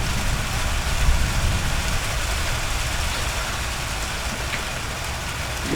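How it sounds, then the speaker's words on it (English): Heavy rain pounds the steel roof of a container house in Costa Rica in a constant dense roar, with a low rumble underneath and no voices. "listening to the rain drum on the steel roof of our container house all night"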